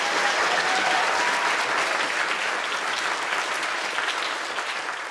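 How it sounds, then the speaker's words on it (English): A large lecture-hall audience at a Royal Institution Christmas lecture claps loudly and steadily, a dense sustained round of applause that tapers slightly toward the end. "So a big round of applause for you two."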